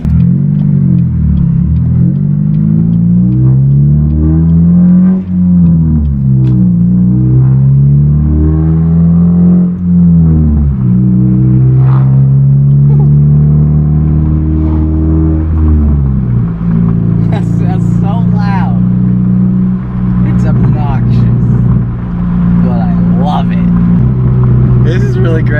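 A Pontiac G5 fitted with a ZZP 2.5-inch downpipe drives along, its raspy exhaust droning loud and steady, rising and falling with the revs throughout, while a person talks over it.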